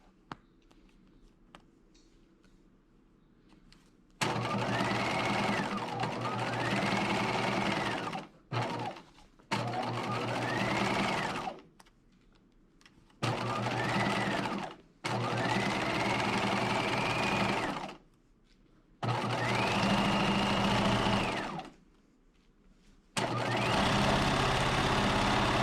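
A sewing machine straight-stitches along the edge of a ribbon at a 2.5 mm stitch length, whirring in several loud, steady bursts separated by short pauses, close up.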